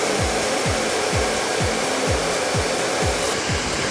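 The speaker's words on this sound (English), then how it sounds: "Then you're gonna turn your blow dryer to cold air" Blow dryer blasting hot air onto rolled-up hair, a loud continuous close whoosh with a regular pulsing flutter throughout.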